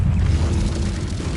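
The Incendio fire spell goes off in Hogwarts Legacy as a heavy, rumbling whoosh of flame, loud and close, sustained across the whole moment with no talking over it.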